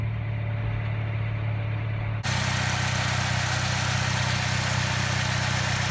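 A car engine running steadily at idle just after its spark plugs were replaced, a close, even hum; about two seconds in, a louder broad hiss abruptly joins and continues to the end.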